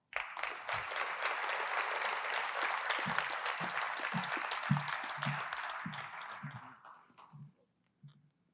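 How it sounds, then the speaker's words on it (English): Steady applause from a large crowd at a military recognition ceremony fills the space, with a few louder claps standing out, before it tapers off and fades into quiet. "Let's have another round of applause"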